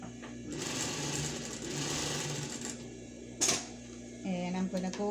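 A sewing machine runs a straight stitch through scrap fabric while a pet bed is sewn, its needle whirring steadily at close range in two long runs with a short pause between, and a voice talks briefly near the end.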